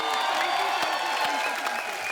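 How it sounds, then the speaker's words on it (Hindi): Studio audience applause for Farah Khan on a television comedy show, a short dense round of clapping with light crowd murmur, steady and fairly loud. "ओके सो दोस्तों, एक बार सबसे पहले तो फराह मैम के लिए जोरदार तालियां।"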